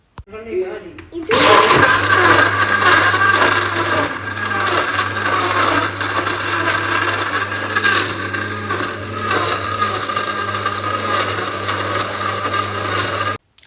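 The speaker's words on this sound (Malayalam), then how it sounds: "ഇത് മിക്സിയിൽ വെച്ചിട്ടൊന്ന് അടിച്ചെടുക്കാം" A mixer grinder blends avocado with vanilla ice cream and ice, starting after a short pause with a loud, steady motor whir and churning that runs unbroken to the end.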